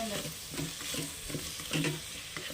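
Soaked green peas being stirred and fried in a pan for Telugu-style bagara rice, giving a steady sizzle with soft scraping stirs recurring every half second or so, close and moderately loud with no talking.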